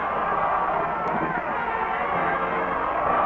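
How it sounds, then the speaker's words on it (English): A football crowd cheers as the home team runs onto the field before kickoff, a dense continuous roar of distant voices and hubbub with no break. "The team comes on the field as the fans cheer."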